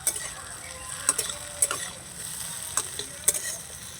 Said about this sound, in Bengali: দিয়ে দিচ্ছি লম্বা করে কেটে রাখা টমেটো টমেটোটা দিয়ে একটু নাড়াচাড়া করে নেব